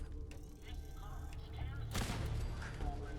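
A big explosion from the destruction of Ahab, a robot in Fallout 4, bursts in as a broad, loud roar after a steady rumbling game background, fading into lingering noise.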